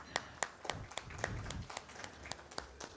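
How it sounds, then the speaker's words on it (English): A sparse audience at a media conference claps, distinct individual hand claps sounding faintly and irregularly in a large room. "A warm round of applause."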